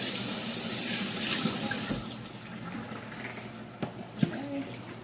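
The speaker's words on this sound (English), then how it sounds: "Water poured on here." Water runs and splashes steadily for a couple of seconds, then tapers off, leaving faint kitchen clatter and a few soft knocks.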